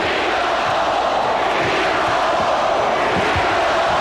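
An NBA playoff crowd of 19,000 at a Suns game roars in a sustained, dense chant, loud and continuous with faint thumps underneath.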